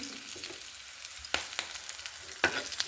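Onion, ginger paste and green chillies sizzle steadily in hot oil, with a few sharp scraping stirs of a utensil against the pan.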